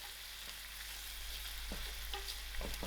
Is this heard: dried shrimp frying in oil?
yes